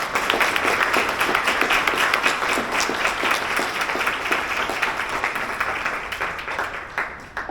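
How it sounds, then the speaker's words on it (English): Sustained round of applause from an audience at a literacy talk, dense clapping that holds steady for several seconds before thinning out and tapering near the end. "I'd like to do a round of applause for those presents"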